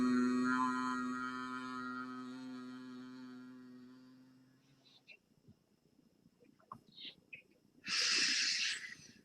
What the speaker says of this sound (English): just relaxing and breathing normally